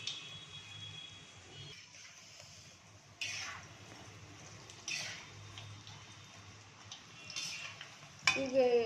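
Spiny gourd (karatoli) bhaji fritters frying in oil on high heat, a soft steady sizzle with occasional utensil clinks and stirring scrapes, fairly quiet with a brief louder clatter near the end.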